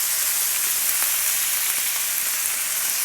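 Stuffed squid fries in a pan, giving a steady, close hiss of bright sizzling with faint crackles and no speech.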